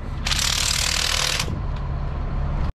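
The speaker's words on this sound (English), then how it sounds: "We're gonna run all these down with an electric impact" An electric impact wrench runs down brake bolts on a Caterpillar 24M motor grader, a loud, close burst of rattling hammering for about a second, then a steadier mechanical whir before cutting off.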